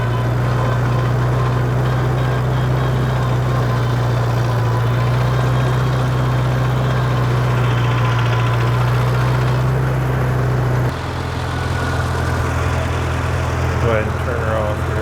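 A 1948 Farmall Cub tractor engine idles steadily up close with a faint ticking running through its low drone, then settles to a slightly different tone near the end.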